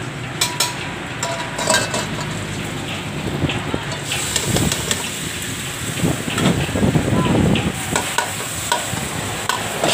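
Sisig fries in a hot pan at a busy food stall with a continuous crackling sizzle, along with frequent metal scraping and clanking as it is stirred, and some voices mixed in.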